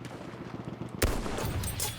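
Gunfire in the first-person shooter Battlefield 1: after a quiet second, a sudden loud shot bursts out, followed by continued rattling fire and echoing cracks, with no speech.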